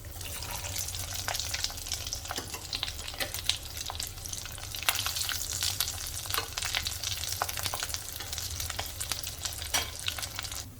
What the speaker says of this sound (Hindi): तो इसी तरह से पूरे हम अपने जो भी अरबी हैं पूरे इसी तरह से हमें डबल फ्राई कर लेने हैं।